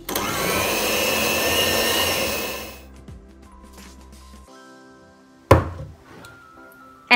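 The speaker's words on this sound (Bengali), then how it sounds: "আর মিক্স করতে একটু কষ্ট হলে সেক্ষেত্রে বিটার মেশিনটা একে দিয়ে মানে একেবারে লো পাওয়ারে দিয়ে একটু বিট করতে হবে।" An electric hand beater on its lowest setting mixes eggs and flour into a frying-pan cake batter, with a loud, steady motor whir for about three seconds before it stops, followed by a few sharp knocks and taps.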